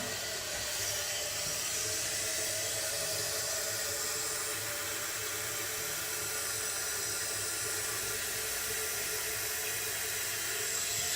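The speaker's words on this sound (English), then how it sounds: "The tank is filling up as we speak." A toilet tank refilling through its Fluidmaster fill valve, a continuous close hissing rush of water running steadily and evenly without pause.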